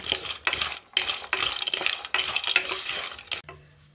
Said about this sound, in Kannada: ನೆಕ್ಸ್ಟು ಅರಿಶಿನದ ಕೊನೆ ಹಾಕ್ಕೊಂಡಿದ್ದೀನಿ, ಒಂದು 200 ಗ್ರಾಮ್ ಅಷ್ಟಿದೆ.